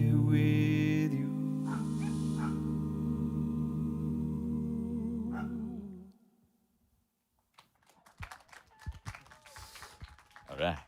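A live a cappella choir imitates dogs barking in full harmony, with sustained voiced chords that fade out and give way to scattered sharp taps after a short silence.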